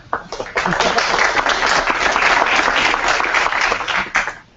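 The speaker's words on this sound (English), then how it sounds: "were you applauding for me or for him?" Audience applause at the opening ceremony of a tech event, a dense burst of clapping that swells quickly, holds loud for several seconds and fades out.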